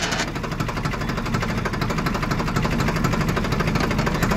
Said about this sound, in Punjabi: ਛੋਟਾ ਟਰੈਕਟਰ ਆ